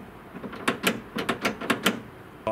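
Spanner tightening a nut onto a washer on the rear door bar of a Pajero, a quick run of about eight sharp metallic ratcheting clicks, close and moderately loud.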